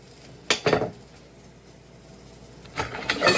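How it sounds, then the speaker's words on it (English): Rice is added to a pot of boiling water on a stove, heard as two short bursts of clattering pot and rattling grains around a quiet stretch of faint background noise. "Now, since the water is boiling,"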